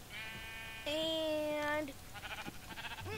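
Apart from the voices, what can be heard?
sheep bleating in Minecraft, a video game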